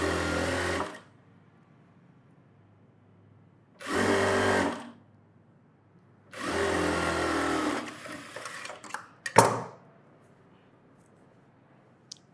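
A sewing machine stitches an umbrella frock seam in three separate bursts of rapid whirring, each about a second long, with quiet pauses between them and a few sharp clicks and handling knocks near the end.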